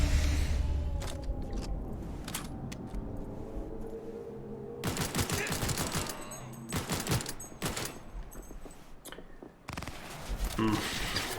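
Rapid bursts of gunfire in the video game Cyberpunk 2077, dense volleys of close, sharp shots coming in clusters over a busy game background, with talking heard in between.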